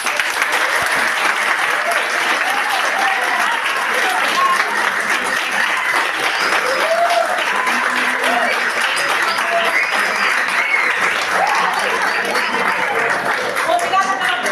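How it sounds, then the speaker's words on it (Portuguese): Long, steady audience applause fills the hall after a career and success talk, a dense unbroken wash of clapping with faint voices and light laughter underneath. "Uma salva de palmas para vocês."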